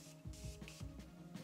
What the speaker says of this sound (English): one of my favorite features is just the mister.